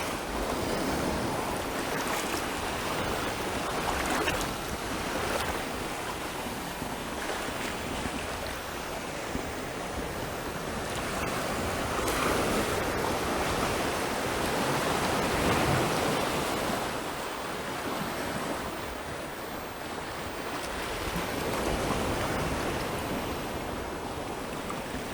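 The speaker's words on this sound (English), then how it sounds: "enjoy the sounds of the water, which will be going around you right now, and also just the sounds of the sea itself in general" Sea waves wash against the cliffs of Fryers Well Point in a steady, broad roar of surf, swelling and easing in slow surges, with some wind buffeting and no talk.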